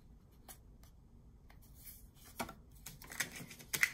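Pen writing lettering on paper for a handmade envelope embellishment, faint scratchy strokes and light taps growing slightly busier toward the end, close and quiet with no talk.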